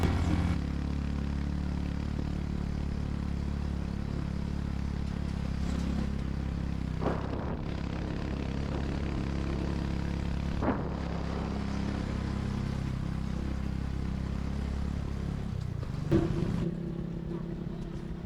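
A jeepney-style motorbike ride, with a steady, loud engine drone and road rumble running throughout, close and continuous with a few brief bumps and wind surges.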